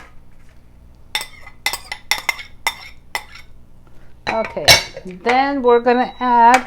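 Metal pot and utensils clinking and clattering in a home kitchen while quinoa for dinner is prepared, a string of sharp bright clinks followed by rattling and scraping, with someone talking over it.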